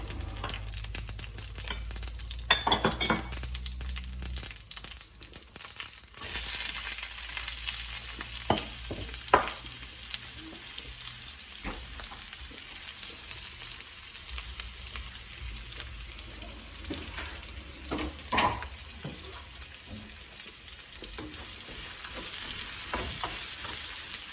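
Mustard seeds, fennel and curry leaves crackle in hot oil for a Jaffna chicken curry, a dense sizzling hiss with sporadic pops and spatula scrapes, loud at first then steadier, no talking.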